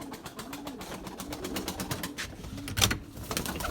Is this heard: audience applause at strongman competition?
no